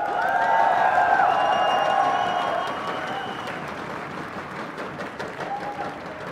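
A crowd at an esports championship arena applauds and cheers loudly, and the roar fades gradually to a lower murmur over a few seconds.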